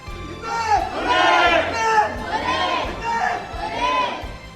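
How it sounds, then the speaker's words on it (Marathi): A crowd at the Swatantryaveer memorial in Dadar celebrating Swapnil Kusale's Olympic shooting bronze medal, with many voices shouting and chanting together in loud, rhythmic surges, close and lively. "दादरच्या स्वातंत्र्यवीर स्मारकातही जोरदार जल्लोष करण्यात आला"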